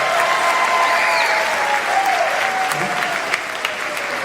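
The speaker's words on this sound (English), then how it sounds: "let's give them a round of applause for it." Audience applause at a junior high school spring band concert, steady dense clapping that holds at a constant level for several seconds, with faint murmuring in the crowd.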